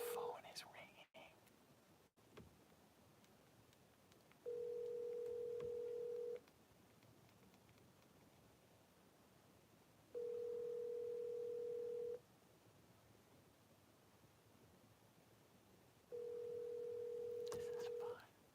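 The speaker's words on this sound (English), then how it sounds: "phone is ringing." A telephone ringback tone sounds during an outgoing call, three long steady pulses a few seconds apart, clear and even, with faint whispering and low background noise between them.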